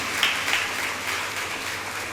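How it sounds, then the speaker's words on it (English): An audience applauds at the inauguration of a school digital fest in Kerala, a steady, moderately loud wash of clapping throughout the short stretch, with no voices on top. "Let us give them a big round of applause,"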